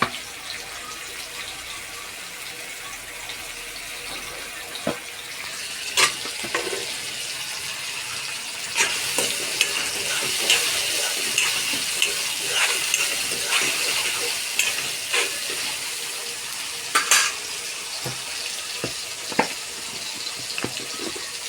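Onion and tomato frying in a pan for a pithla dish, a continuous soft sizzle with scattered scraping clicks of a spoon stirring through it.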